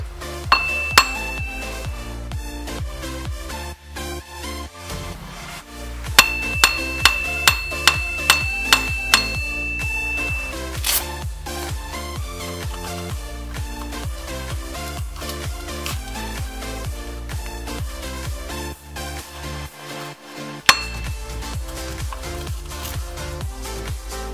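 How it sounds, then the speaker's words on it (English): Repeated sharp metallic hammer strikes ring out on a rear wheel stud of a 1989–2001 Toyota Camry, loud and close, in bursts of steady blows with bright clanging overtones. "So, get a hammer and start hitting."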